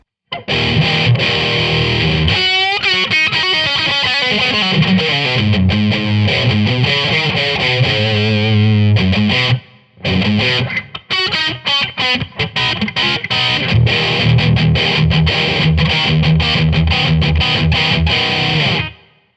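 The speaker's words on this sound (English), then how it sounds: "let me turn the treble up so you can hear that digital artifact sound come in" Heavily distorted guitar chords and runs through an original Line 6 Spider amp with treble turned up, a harsh, fizzy, buzzing digital top end, loud and continuous apart from one brief pause midway.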